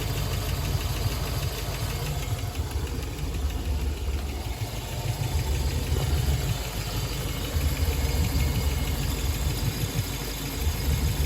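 The inboard engine of a 1971 Century Resorter boat idles steadily with a low, throbbing rumble and faint mechanical knocking, constant and fairly close, with no talk over it.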